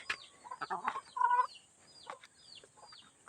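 Laying hens clucking close by while their eggs are collected, a series of short agitated clucks and squawks with brief pauses between, fairly loud and with no talking.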